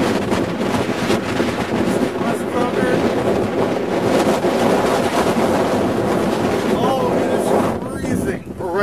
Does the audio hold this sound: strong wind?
yes